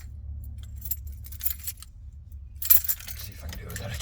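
Keys jangle in short metallic bursts, clustered around the middle and end of the moment, near and fairly crisp over a low rumbling hum.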